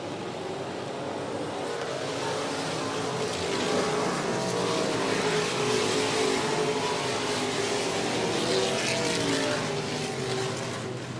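Stock cars race around the 105 Speedway oval under green flag, a dense continuous engine roar that swells louder as the pack sweeps past and then fades slightly, with no voices heard.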